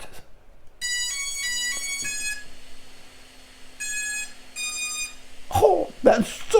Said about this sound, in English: I want to turn it on real quick so you guys can hear what this thing sounds like when it starts up